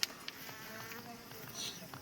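Bees fly at the entrance hole of a beehive box set in an old stone wall of a Himalayan house, a faint, soft buzzing with a few brief clicks over quiet surroundings.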